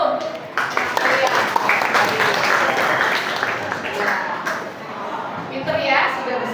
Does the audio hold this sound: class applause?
yes